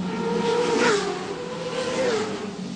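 Touring race cars running side by side down Cable Street at the 1987 Wellington street circuit race, a loud engine drone rising and falling as they pass, alone without talk.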